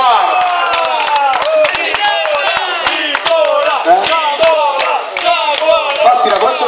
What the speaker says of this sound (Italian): un applauso al Giaguaro